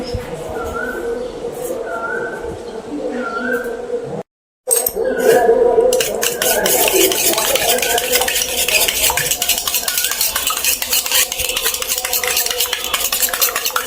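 Eggs being beaten in a bowl with a utensil, a rapid run of clinking, scraping strokes that keeps going over a steady kitchen background, briefly cut off partway through, with occasional utensil clinks.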